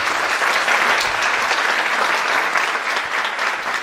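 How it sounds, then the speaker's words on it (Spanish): A conference audience at a 2018 colloquium on physical education and sport gives a loud, sustained round of applause to welcome a speaker, clapping evenly throughout without voices. "Recibamos con un fuerte aplauso al doctor Mario Antonio Ramírez"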